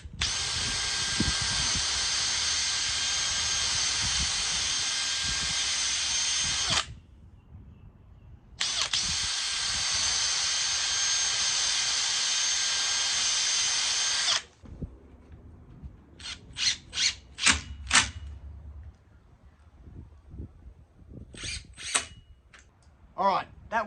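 A cordless power drill whines loudly in two long, sustained runs while pre-drilling into the timber of a double gate, followed by quieter clicks and short handling knocks.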